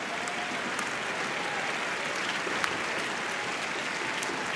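Spectators in a badminton arena at match point of a men's doubles game let out a steady, distant wash of crowd noise and scattered clapping, with no talk over it.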